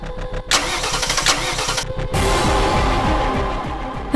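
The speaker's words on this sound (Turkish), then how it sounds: "Lütfen araba çalışsın." A car engine cranks over and over, trying to start: fast rhythmic chugging bursts, close and loud, separated by short gaps, with no voices.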